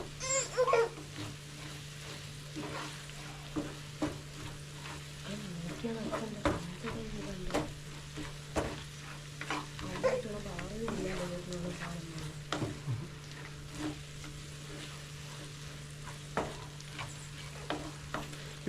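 Roasted-coconut curry is stirred and fried in a pan with a steady sizzle and repeated scraping and clacking strokes of the spoon, close up, with no talking.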